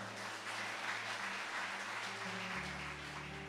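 A church congregation at a GBI service in Bengkulu applauds with a soft, even patter of many hands, heard fairly faint over sustained musical tones underneath.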